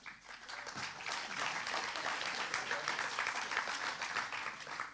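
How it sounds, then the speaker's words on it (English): A large crowd at a summer party applauds steadily, a dense wash of clapping that stays loud and even from start to finish. "a big round of applause for that"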